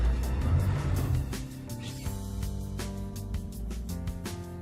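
A car engine idles and shifts into reverse as a boat trailer backs down a launch ramp, a steady low hum throughout with clicks and small clunks over it, close by and moderate in volume.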